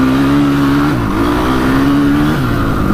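A Honda TRX450 ATV engine revs loudly and cleanly without bogging, its pitch climbing through two quick upshift-like drops in a steady, close-up roar with no voices.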